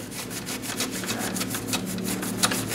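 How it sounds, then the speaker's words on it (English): Paper towel soaked in lighter fluid wiped along the blade of a Better Packages BP555e gummed tape dispenser, giving steady close rubbing and scraping strokes in a fairly regular rhythm, with no talking. "Pour it on the paper towel, and then we'll just wipe the blade."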